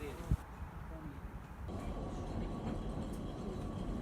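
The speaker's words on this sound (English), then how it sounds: "The train set off from Portmeirion across a bridge over the estuary" A heritage train on the Ffestiniog line in North Wales rumbles steadily along its rails across an estuary bridge from Portmeirion, with a low continuous roar and faint rattling, while a person talks over it.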